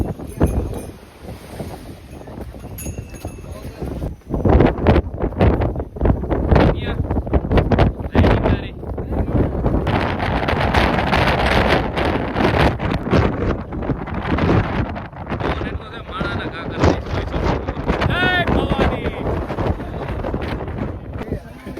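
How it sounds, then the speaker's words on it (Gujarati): Loud, gusty wind on Girnar mountain buffets the microphone in heavy rumbling bursts, with voices faintly under the roar. "પવન છે જોરદાર."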